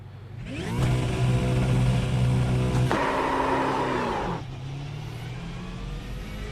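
A V8 Supercar engine in the iRacing sim revs up hard and holds a loud, steady roar, then eases off with a falling pitch and settles into a lower, rougher drone, with no talking.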